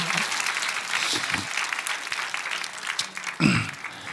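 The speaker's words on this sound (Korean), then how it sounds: "박수하겠습니다." A congregation at a nationwide Sunday worship service in Gwanghwamun, Seoul, breaks into broad applause for a guest, a steady wash of many clapping hands with a voice briefly rising over it near the end.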